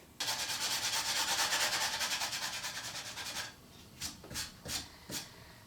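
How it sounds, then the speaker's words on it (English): Sandpaper of 120 grit scuffing a rocket fin root part for bonding, heard as a steady, loud rasping rub for about three seconds, then several short separate strokes. "We're using 120 grit sandpaper to give it a really good scuff and get a great bond."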